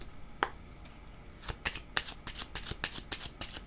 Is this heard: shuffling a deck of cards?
yes